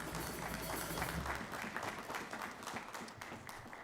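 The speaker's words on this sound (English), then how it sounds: "So please give them a huge round of applause." A crowd at a community band's Christmas concert gives continuous applause, heard faint and distant as a dense wash of clapping that stays fairly even throughout.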